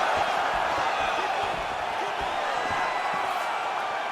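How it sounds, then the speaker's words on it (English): Crowd at a fight event cheering after a round: a dense, sustained roar of many voices in an arena, with a commentator talking over it. "So the crowd voicing its appreciation after that round."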